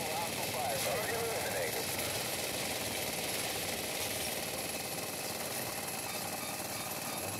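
Helicopter in the Android shooter game Modern Combat 3: Fallen Nation, its rotor and engine drone holding steady for several seconds beneath someone talking over it.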